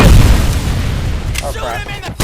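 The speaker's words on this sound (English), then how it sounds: "Grenade, grenade, grenade, grenade!" Heavy booming grenade blast in the RoboCop: Rogue City video game, a loud low rumble decaying over a couple of seconds, followed by a short spoken voice and a sharp thud at the end.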